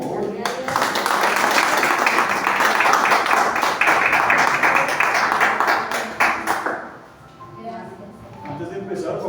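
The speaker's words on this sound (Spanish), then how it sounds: "Un aplauso, por favor" A church congregation applauds loudly in dense, sustained clapping for several seconds before it fades, with voices heard as it dies down.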